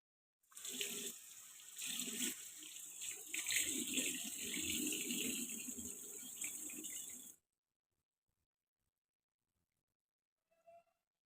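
Tap water running into a sink while face paste is washed off, a steady close splashing stream for about seven seconds that stops abruptly, followed by silence and a faint brief clink.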